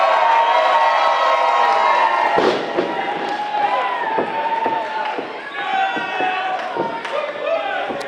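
Crowd noise in a ballroom at an independent wrestling show for wrestler Dez Wellston, with a dense, steady roar of cheering and shouting and scattered claps and bangs throughout.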